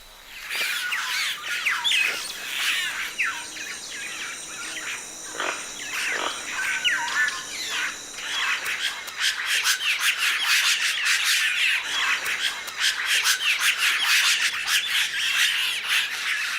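Toucans squawk in a forest canopy, their harsh, repeated calls layered over a dense, continuous chorus of insects and other wildlife, moderately distant and steady.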